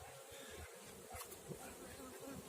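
Honey bees buzz around a beehive frame during an inspection, a soft steady droning hum that stays faint and close, with no clear speech.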